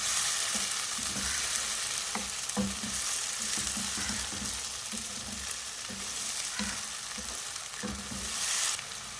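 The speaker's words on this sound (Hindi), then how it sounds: "3 मीडियम साइज़ के टमाटर हैं, इनको मैंने छोटे छोटे कट कर लिया है, ये डालूंगी। मिक्स करेंगे इसके साथ।" Chopped medium tomatoes fry in hot oil with ginger-garlic paste for an egg masala, a loud continuous sizzle broken by repeated scraping stirs of a spoon against the pan, no talking.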